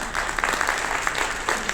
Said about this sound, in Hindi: बहुत तालियां होनी चाहिए सर के लिए